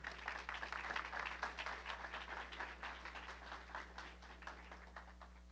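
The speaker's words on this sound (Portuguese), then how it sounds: "Você pode aplaudir Jesus?" A church congregation claps during a sermon, a fairly faint but steady patter of many hands over a low electrical hum, lasting several seconds and slowly thinning.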